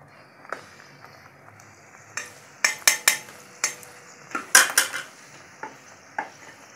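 Food frying in a pan while being stirred: a soft, steady sizzle runs underneath a series of sharp, irregular metal clanks and scrapes from the utensil against the pan, close by.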